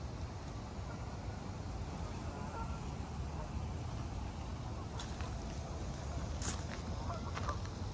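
Canada geese in a park with pedal boats, a burst of honking calls in the later seconds, moderately close, over a steady wash of flowing water and outdoor noise.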